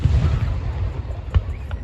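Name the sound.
fireworks exploding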